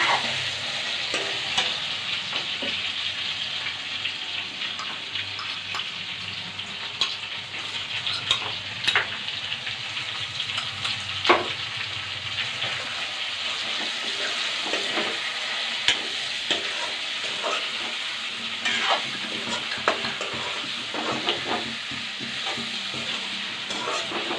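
Local chicken meat frying with sesame seeds in a pan, a steady close sizzle with frequent scraping stir strokes running throughout, no voices.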